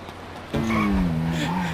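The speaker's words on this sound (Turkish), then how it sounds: "Şuradaki arabaların birini alıp kaçacağım ben." A car in the video game GTA V kicks in abruptly after a short lull, its engine droning steadily while the tires skid and scrub along the road, fairly close and loud.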